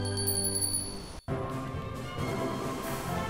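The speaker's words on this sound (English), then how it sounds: "I call it Borum, it's not Borum, but it's Borum's bell" A magic bell rings in the video game Dragon Quest 8, a bright sustained chime that cuts off abruptly and gives way to a noisy game soundscape, loud and close with no talk over it.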